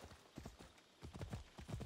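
Horse hooves clip-clopping in the video game Assassin's Creed Odyssey, a quick irregular run of close, muffled thuds in uneven bursts, fairly faint, with no talk over them.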